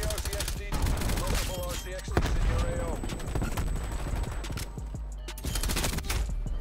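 Wall-bang gunfire in Call of Duty: Black Ops 6, shooting through walls, comes as dense, rapid bursts of shots with a few brief pauses, fairly loud and mixed with other game sounds throughout.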